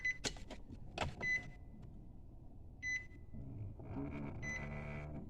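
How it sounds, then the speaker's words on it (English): HVAC blend door actuators cycling inside a Nissan Titan or Armada truck cab after the key is turned on, with faint whirring motor runs, several short electronic beeps and chimes, then a steadier low hum, quiet and close, no talk. "You will hear some of your actuators going off."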